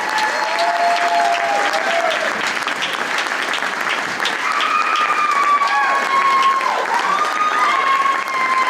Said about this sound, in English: So all of you guys need to give yourself a round of applause